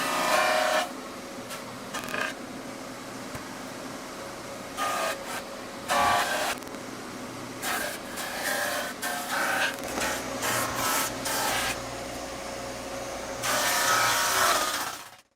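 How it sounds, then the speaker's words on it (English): A small drum sander grinds across a glued wooden chessboard, a continuous abrasive whine that swells in repeated louder passes, close and steady with no speech. "all I had was this little drum sander, so I sanded away with that for a couple of hours"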